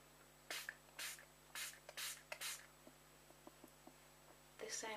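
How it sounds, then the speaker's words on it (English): Several short, faint hissing bursts of spray onto a cotton bud, a few in quick succession, followed by light clicks and small handling sounds, with one last spray at the end. "Spray it on a cotton bud again."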